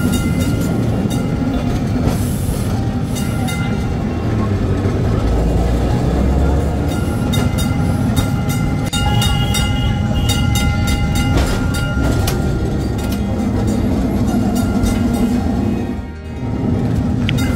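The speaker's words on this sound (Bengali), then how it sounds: "যেখানে এই রাস্তা ফাঁকা পাচ্ছে ট্রাম বেশ ভালোই গতি তুলছে।" A Kolkata heritage tram picks up speed along street tracks on an empty Sunday road, a loud steady rumble of wheels and rail rolling close by throughout, with a brief dip near the end.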